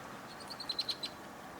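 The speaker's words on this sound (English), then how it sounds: "I believe I just heard a swamp sparrow." A swamp sparrow calls with a short run of high, thin chirps, faint and a little distant, over a steady outdoor hiss.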